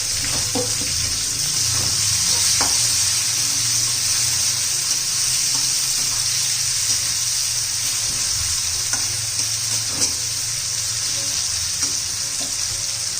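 Tomato added to garlic in a pan sizzles and fries steadily while a spoon stirs it, making occasional scraping clicks, for a bottle gourd curry; no voices.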